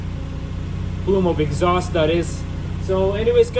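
A 1993 Asuna Sunfire engine idles smoothly and steadily after starting, a low constant hum underneath someone talking.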